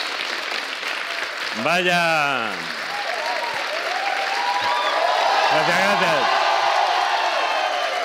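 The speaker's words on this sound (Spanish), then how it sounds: "Cuanto más aplaudáis y menos hable yo, esto saldrá mejor." A live comedy show audience applauds and cheers loudly and continuously, with a performer speaking briefly over the clapping.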